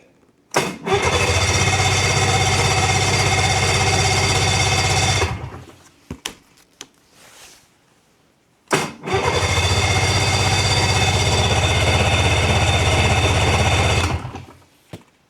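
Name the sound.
snowmobile engine starting on full choke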